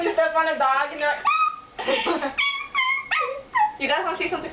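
A human voice imitates a dog whimpering after being stepped on: a run of high, wavering yelps and whines in quick bursts, close and fairly loud, with short breaks between cries.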